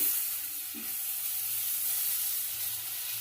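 Tilapia curry with tomato, turmeric and salt sizzles and hisses steadily in hot oil in a pan as it is stirred, a continuous close frying sound with faint stirring scrapes.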